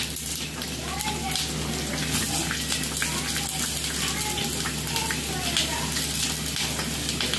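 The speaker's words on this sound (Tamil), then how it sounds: "வெள்ளை பூடு வெடிப்பது" Garlic crackles and sizzles as it fries in oil for a Sri Lankan country chicken curry, a steady dense hiss with fine pops throughout, and a voice talking over it.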